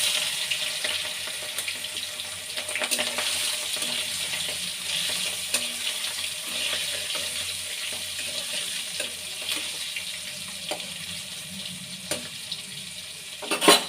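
Shrimp frying in a pan with black cumin seeds for a Bengali vegetable curry: a steady, close hiss and crackle of hot oil that runs throughout, with a few small clinks, and no voices.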